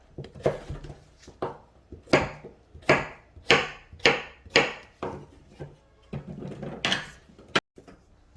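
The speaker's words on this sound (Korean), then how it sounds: "그 다음 중간에 자르시고 크게 잘라주시면 되거든요" A knife chops Korean zucchini (aehobak) into large pieces on a cutting board, about a dozen crisp, clear knocks in an uneven rhythm, close and alone.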